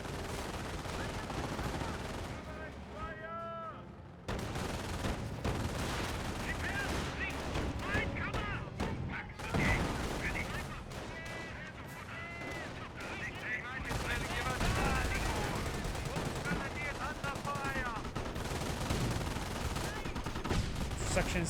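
Rapid gunfire and explosions crackle almost without pause through a Company of Heroes battle, with dense bursts of rifle and machine gun shots, some sharp and near and others distant, under steady tonal game noise.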